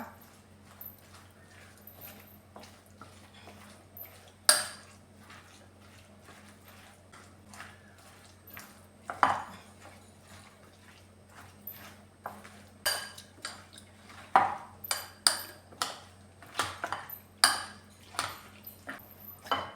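Cucumber, yogurt and salt being stirred together in a bowl: irregular clinks and scrapes of a spoon against the dish, sparse at first and then quicker and more frequent, over a low steady hum.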